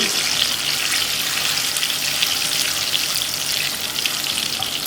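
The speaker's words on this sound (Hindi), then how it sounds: "तो उसके बाद हम 1 टीस्पून जो है राई डाल देंगे इसके अंदर, थोड़ा सा चमचा चलाएँगे" Cumin and mustard seeds frying in hot oil for chana daal, with red chillies about to go in, give off a dense, constant close sizzle and hiss, lightly stirred, with no talking.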